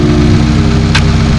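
A 2018 Subaru WRX engine idles with a steady, even drone and constant low vibration, close and loud, with a brief faint click partway through; the charge pipe has just been tightened after an idle problem.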